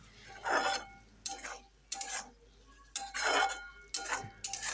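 Utensil scraping and clinking against a pan as spiced vegetables for a Bengali fish curry are stirred, in repeated close strokes with pauses between.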